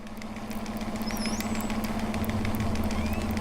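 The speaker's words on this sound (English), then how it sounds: "And the whale communication disrupted by ship engine noise." Ship engine noise recorded underwater in the Arctic, a steady low droning hum with a constant tone beneath faint crackling, while thin rising whistle-like calls pass briefly over it.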